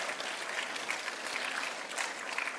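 Audience applause at a school Gonzaga Day 2023 singing competition, a steady wash of many hands clapping at moderate distance, sustained without a break.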